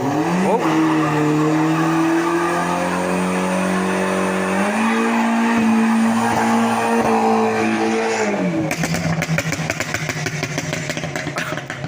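A loud modified BMW M135i hatchback engine revs hard and climbs through the gears while tires squeal, ending in a rough, crackling rumble.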